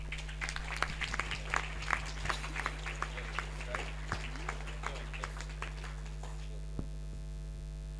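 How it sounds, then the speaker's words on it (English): An audience at a conference gives a round of applause, a scattered, moderate clatter of claps that fades out after about six seconds over a steady electrical hum, leaving one last isolated clap. "let's give ourselves a round of applause"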